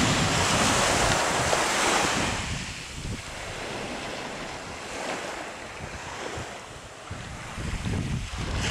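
Sea waves wash onto Dzhemete beach in Anapa on an October day, a steady loud roar of surf mixed with gusting wind buffeting the microphone, continuous throughout with no voices.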